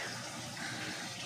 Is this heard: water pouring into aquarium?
yes